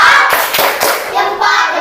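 Schoolchildren in a classroom doing a rhythmic thumb clap, a few sharp close hand slaps over a steady chatter of young voices.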